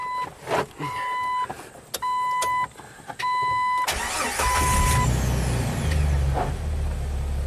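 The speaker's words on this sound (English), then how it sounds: "Let's crank it over, see if it fires up instantly." A Jeep with a long-crank fault cranks with a rhythmic starter whir before the engine catches and settles into a loud, steady idle, close to the vehicle, with no talking.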